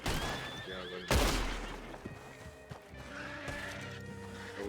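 A horse whinnies in the Red Dead Online video game, a loud burst near the start followed by a long, trailing neigh over a busy backdrop of music and ambient game sounds.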